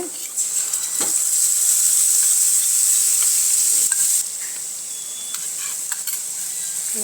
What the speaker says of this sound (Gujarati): આ બધું આપણે સરસ રીતે સાંતળી લેવાનું છે